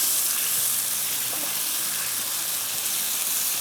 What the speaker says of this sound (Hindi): अब हाई फ्लेम पे आपने इसको भून लेना है,